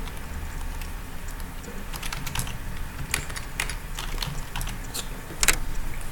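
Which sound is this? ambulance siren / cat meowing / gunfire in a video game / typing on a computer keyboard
typing on a computer keyboard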